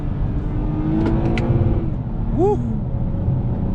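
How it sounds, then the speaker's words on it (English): A 2020 Toyota Camry TRD sedan's engine revving as it downshifts, heard as a loud, continuous engine drone with short rising blips; a person briefly cheers over it. "I mean, listen to these downshifts, ready?"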